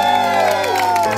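A crowd on a set cheers and claps during a birthday celebration, a brief loud burst of mixed shouting and voices with clapping underneath, cut off after about a second.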